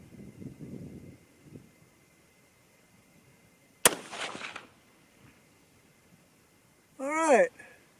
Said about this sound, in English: All right, here we go, third and final shot.